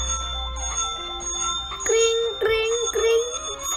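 A bicycle bell rings in the video game Sakura School Simulator, a few bright metallic dings in quick succession, with game music and a voice talking underneath.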